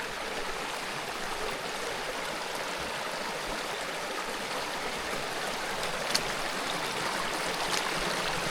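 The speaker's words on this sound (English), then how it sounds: "There's a creek." A creek along a backpacking trail near the North Fork of the Clearwater River flows with a steady, dense rushing and trickling wash that holds even throughout, close by and alone.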